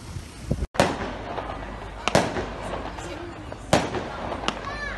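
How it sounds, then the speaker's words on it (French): Fireworks go off at a harbor port, a few sharp cracking bursts spaced a second or two apart, loud and fairly near, with crackling tails and people talking in between. "À chaque fois que j'arrive dans un port, ils font un peu d'artifice."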